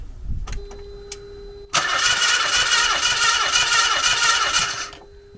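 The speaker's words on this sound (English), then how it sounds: "And then we'll spin it over and see how we go." Mazda MX-5 engine cranking over on the starter during a compression test, a steady rhythmic whirring churn that starts abruptly after a couple of faint clicks and runs loud and close for about three seconds before cutting off.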